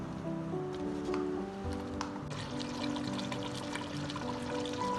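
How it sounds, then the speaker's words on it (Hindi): Chicken pieces frying in oil in a pan for chicken achari on a high flame, giving a steady crackling sizzle that runs without a break and has no voices over it. "अब ये भूनता जा रहा है, बस इसमें ऑयल छूटने वाला है"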